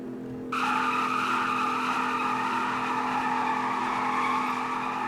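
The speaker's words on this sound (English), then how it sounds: "This one swings just as well as the other ones. It does it really well. Swings really wide, and yeah, this is auto donuts right now." A 2002 Chevrolet Silverado GMT800 pickup doing donuts in a video game, its tires skidding in one loud, unbroken squeal that kicks in after a brief quiet lead-in and holds steady over the engine drone.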